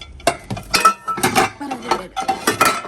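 Metal pots, pans and utensils clatter in a cramped home kitchen during tea-making, a frying pan being pulled out, with repeated bright clinks and clanks at an uneven pace, close and fairly loud.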